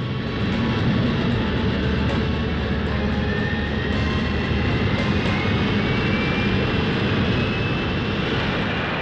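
Concorde, the supersonic airliner, roars in flight on its engines as a steady, loud, dense jet rush that stays constant and unbroken throughout.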